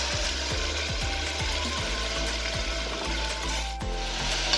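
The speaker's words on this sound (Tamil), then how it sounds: "மட்டன் நல்லா சுருங்கி வர அளவுக்கு வதக்கி எடுத்துக்கோங்க" Mutton sizzles in a pan with sautéed onions, a loud continuous frying hiss with regular scraping strokes of a spatula stirring it, close and without speech.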